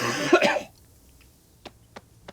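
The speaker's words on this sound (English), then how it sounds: "want to like clear my throat." Someone clears their throat with a rough, gravelly rasp up close, followed by a few faint clicks in near silence.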